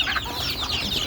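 A one-eyed hen clucks close by in short, repeated calls over a steady background hiss.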